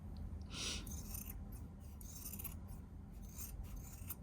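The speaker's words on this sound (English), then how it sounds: "It's really hard to cut with the scissors so far out." Soft rasping snips and scratches of scissors cutting fabric, close and quiet, repeating irregularly.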